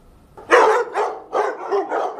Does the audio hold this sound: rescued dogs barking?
yes